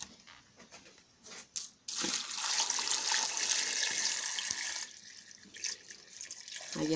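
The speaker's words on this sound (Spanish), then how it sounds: "Ahora vamos a echarle su agüita." Water pours steadily into a cooking pot of corn cobs, a soft continuous splashing rush that starts after a few faint knocks and runs for several seconds before tapering.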